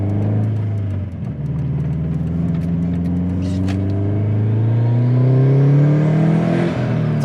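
A 457 wheel-horsepower stock-block Subaru STI engine drones steadily while driving, its low harmonics climbing smoothly through a long pull with a brief dip near the start, loud and close with no talking.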